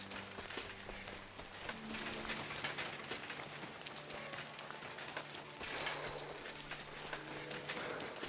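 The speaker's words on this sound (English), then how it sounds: "rain, this weather." Rain falls steadily in the medieval world of the video game Kingdom Come: Deliverance II, a soft, even patter on surfaces with faint bird calls in the background and no talk.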